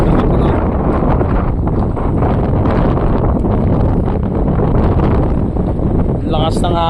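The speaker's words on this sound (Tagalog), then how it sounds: "Lakas ng hangin" Strong wind buffets the microphone on the open deck of the ferry Poseidon 53, a loud, continuous roaring gust that barely lets up, with a faint brief tone near the end.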